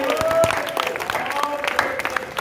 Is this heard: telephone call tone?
no